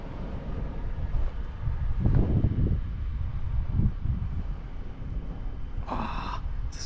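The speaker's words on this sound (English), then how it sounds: "Wind is blowing towards me" Wind blowing in the Arabian desert of the UAE, a steady rushing and buffeting against the microphone with gusts swelling and easing, and a brief faint higher noise near the end.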